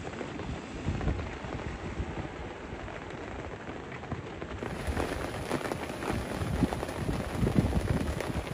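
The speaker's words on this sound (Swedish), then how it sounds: "Ja, regnet kom tillbaka med besked" Steady rain drums on a sailboat under sail in wind, a dense, fairly quiet wash that holds the whole time with a little wind rumble and no voices.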